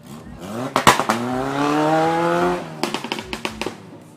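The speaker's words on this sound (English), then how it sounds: "Checking out the next cars right here." An autocross race car runs the course at a regional championship in Davao, its engine revving up in a rising tone and then easing off, with short bursts in the background.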